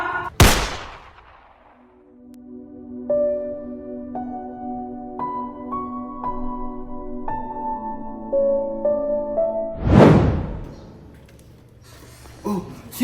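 Gunfire from a Filipino film adaptation of El Filibusterismo, two sharp loud shots standing alone, with a sustained tonal music score between them.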